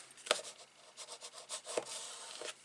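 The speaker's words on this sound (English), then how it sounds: "And then I'm going to rub it down." Card stock being rubbed down by hand while making a double fun fold greeting card, soft close rasping strokes in an uneven rhythm with a couple of sharper taps, quiet and alone.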